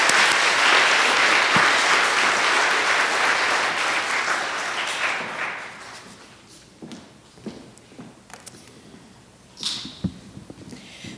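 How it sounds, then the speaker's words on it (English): Hearty applause from a university public lecture audience, loud and dense at first, thinning out after about five seconds into scattered shuffles, footsteps and small knocks. "Raucous applause."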